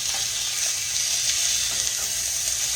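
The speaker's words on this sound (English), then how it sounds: "let these fry a little bit, and we're going to flip them over" Hamburger steaks frying in a pan sizzle steadily and loudly, a dense crackling hiss with small pops throughout.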